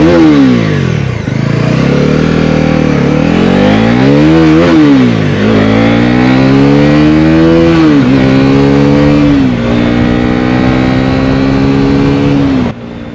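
A 2025 Bajaj Pulsar NS400Z motorcycle engine on a ride, loud and close, revving up and down through several throttle swells and gear changes before settling into a steady high drone that cuts off abruptly near the end.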